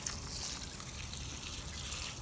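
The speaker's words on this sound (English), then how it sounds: "I'm just giving this a good drink of water." Water trickling steadily from a watering source onto freshly planted sweet potato slips in a garden bed, a soft continuous flow close by with no talk.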